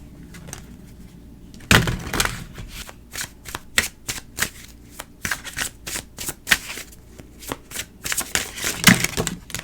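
A deck of oracle cards is riffled and handled up close, giving repeated quick papery flutters and snaps in uneven bursts.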